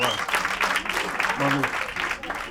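Crowd clapping across the whole stretch, a steady dense patter of many hands, with a few voices cheering over it.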